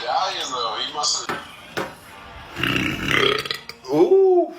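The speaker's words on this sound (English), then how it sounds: "That was a little bit of a crazy burp." A man lets out a loud, drawn-out burp after a big meal, close to the mic, amid some clattering and brief talk.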